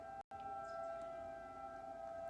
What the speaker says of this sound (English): Like there's two sirens going off.